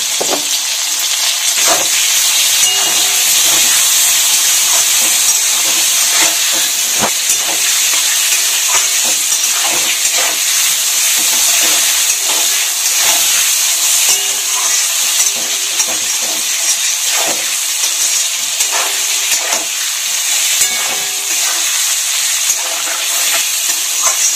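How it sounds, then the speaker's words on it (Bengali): Hilsa fish pieces coated in salt and turmeric fry lightly in a pan, giving a steady, close sizzle with soft crackles and occasional stirring clicks throughout, with no voices. "নুন, অল্প হলুদ, নুন দিয়ে হালকা ভেজে নেব এটাকে"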